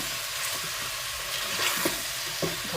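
A potato cutlet mixture fries in a pan, a steady sizzle with occasional scraping and stirring clicks from a spoon, close and continuous with no voices.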